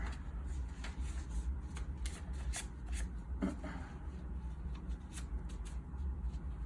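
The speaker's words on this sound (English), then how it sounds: "Folding a filter paper in half and then in half again" Filter paper is folded by hand for a lab filtration, giving close, dry crinkles and rubbing rustles with a few sharper creases along the way, with no speech over it.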